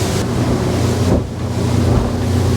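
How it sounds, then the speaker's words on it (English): Rough waves slap and rumble against a Steiger-Craft boat while strong wind buffets the microphone, a loud, continuous roar with a brief dip midway before the wash and wind surge back. "we're now pointing into all these waves"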